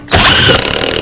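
A power tool, likely an impact driver, tightens a nut on the rear shock absorber of a 2008 Toyota Yaris, giving one loud close burst followed by a fluttering, pulsing run-down.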